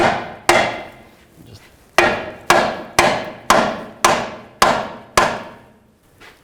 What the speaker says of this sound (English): You can use a hammer.